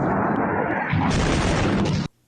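A large explosion at a bridge in Tehran, Iran, in news footage: a loud, close, roaring blast that surges for about two seconds and then cuts off abruptly into near silence.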